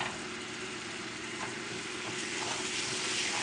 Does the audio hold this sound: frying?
yes